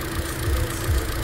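A swapped 1.8L engine in a 2012 Hyundai Elantra runs at idle with a steady low rumble and faint knocking pulses, heard up close with no talking.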